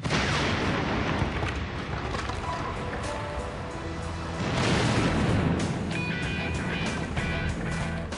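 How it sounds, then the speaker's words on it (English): A tree cannon packed with 2 kilos of gunpowder blows apart, giving a loud, broad blast with a rumbling, splintering wash that swells again midway and trails off over several seconds, with no talk. "A tree cannon can explode."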